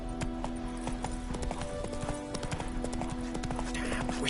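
Roach, the horse from The Witcher 3 video game, gallops with a steady clip-clop of hooves close by, layered over game music and ambience, with a voice speaking briefly.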